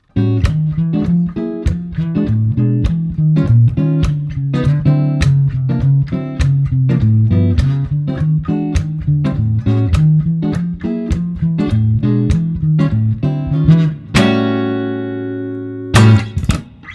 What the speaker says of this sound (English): jazz guys doing moving bass lines and comping chords all at the same time